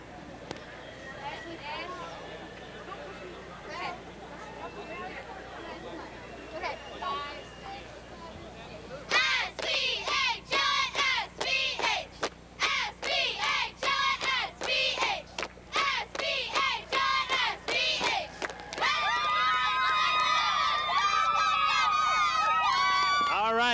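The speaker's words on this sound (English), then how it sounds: "you guys are going to do a cheer for us for the IHSA Television Network" South Beloit high school cheerleaders perform at the 2002 IHSA Class 1A boys football championship against El Paso. The routine starts with quiet crowd murmur, then breaks into loud rhythmic shouted chants with sharp claps and stomps, ending in sustained yelling voices.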